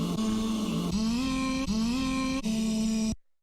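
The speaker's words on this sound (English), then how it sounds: "After that, I've got a bit of OTT." Loud, heavily processed vocal chops with OTT multiband compression for an ethereal beat, sustained bright tones repeating in four phrases of about a second each, then cut off abruptly, with no talking.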